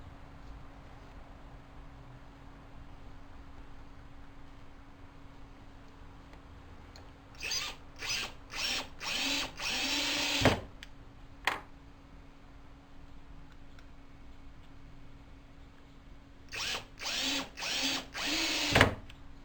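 Self-centering drill bit on a power drill boring hinge holes for a tapering jig, heard as two separate bursts of whining, revving drilling with short pauses between them, loud and close against a quiet background.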